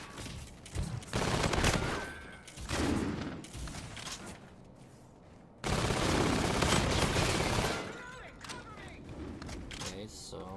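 Call of Duty: Infinite Warfare beta gameplay, with bursts of rapid automatic gunfire in dense volleys separated by brief lulls, loud and close. Voices talk over the shooting.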